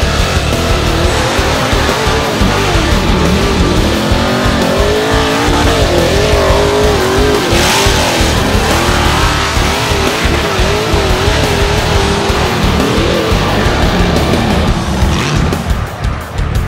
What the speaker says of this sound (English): I drive the buggy called Agnes.